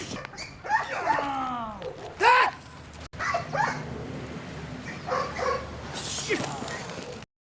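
A guard dog in protection training barks and yips in short bursts close by, with whimpering notes between the barks and a human voice heard at times.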